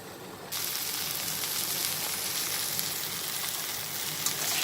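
Okra (lady's fingers) sautéing in oil with red chili powder: a steady, close, loud sizzle and crackle that starts abruptly and continues without pause, with faint stirring and no talking.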